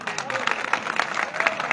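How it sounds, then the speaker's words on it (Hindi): Brief clapping from the audience at a mushaira poetry recital, uneven and moderately close, with a few voices murmuring underneath. "एक बार ताली बजा के एक बार और मुझे इजाजत दें।"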